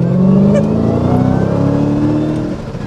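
A 2022 Dodge Challenger SRT Super Stock in track mode revs loudly and steadily up close at a speedway, its deep V8 rumble swelling and holding, with brief talk over it.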